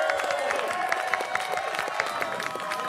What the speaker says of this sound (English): Let's get a big round of applause for Mr. Andrew Heaton.